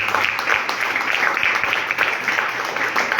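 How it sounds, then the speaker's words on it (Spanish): A church congregation applauds in a sustained, dense wash of clapping from many hands, with no pauses, lasting a few seconds. "Denle un fuerte aplauso a Dios."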